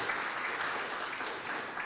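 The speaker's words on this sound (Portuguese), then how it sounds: "Isso valeria uma salva de palmas para o Senhor" A church congregation claps in a dense, steady burst of applause that fills the whole short moment without a break.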